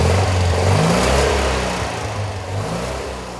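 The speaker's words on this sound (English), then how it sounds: "There's something very free revving about this engine." An old Citroën 2CV's small engine revving loudly and continuously, close up, with a buzzy mid-pitched note rising and falling as the throttle is worked.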